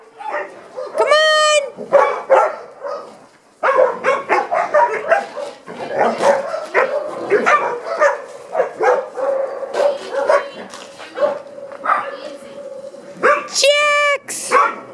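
Several dogs in a mixed group bark, yip and whimper close by, with bursts of barking throughout and someone talking to them between barks.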